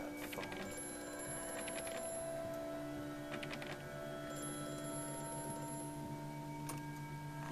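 A telephone rings in the horror game Amnesia: A Machine for Pigs, sounding several repeated ring bursts over a steady droning hum and industrial background.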